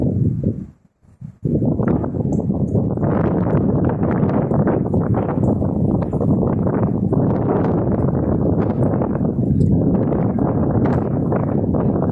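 Strong outdoor wind roars steadily with low rumbling buffeting, continuous and loud after a brief quiet gap at the start.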